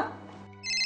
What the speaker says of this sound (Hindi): तो किसका फोन है?